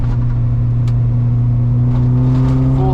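A cheap, high-mileage Volvo 740 engine held at full throttle gives a loud, steady droning hum with a strong low tone, heard close-up and alone on a mountain road.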